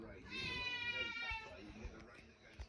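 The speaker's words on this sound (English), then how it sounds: "This is our cat." A pet cat meows in a high, drawn-out harmonic cry early on, with children's voices talking over and after it in a home setting.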